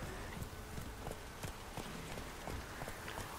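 Roach, the horse in The Witcher 3, gallops in a quick, steady rhythm of hoofbeats on the ground over soft, faint ambience.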